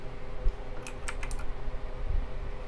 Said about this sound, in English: just type in iTunes